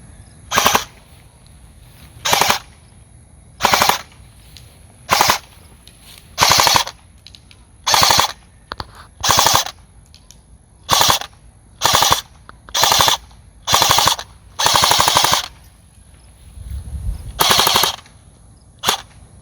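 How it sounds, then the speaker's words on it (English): Full-auto fire from an E&L AK-74MN airsoft electric rifle, a heavy roughly 9-pound gun: about a dozen loud, crisp bursts of rapid shots separated by short pauses, close up with no talking. "fully loaded magazine, and we're going to use full auto this time"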